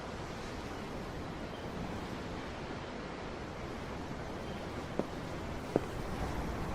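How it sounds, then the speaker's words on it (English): Ocean waves heard from aboard a ship in Tales of Arise, a steady broad wash of surf and wind with two faint clicks near the end. "The waves. They help me think."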